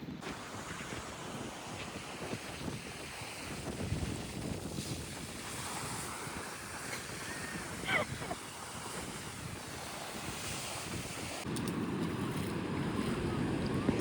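Sea waves wash continuously onto a beach in Bali, a faint, steady surf hiss mixed with wind buffeting the microphone, with a slightly stronger surge near the end.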